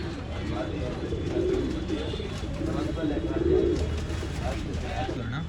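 Pigeons at a bird sale in Bangalore coo in low, repeated rolling calls close by, mixed with background chatter and murmuring voices.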